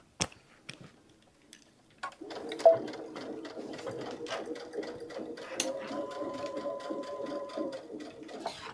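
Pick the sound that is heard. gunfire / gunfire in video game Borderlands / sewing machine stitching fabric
sewing machine stitching fabric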